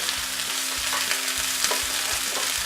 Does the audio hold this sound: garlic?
yes